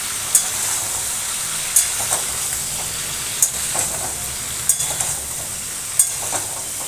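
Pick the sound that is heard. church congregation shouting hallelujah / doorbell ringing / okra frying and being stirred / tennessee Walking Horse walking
okra frying and being stirred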